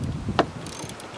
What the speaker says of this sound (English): You just twist right here to unscrew with the socket, that is a 10 millimeter socket to remove this one.